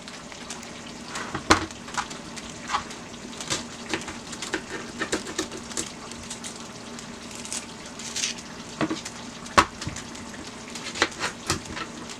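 Bitter ball (garden egg) left on a stove to dry down, giving a steady soft sizzle and bubbling throughout, with a few sharp clicks or taps rising above it and no talking.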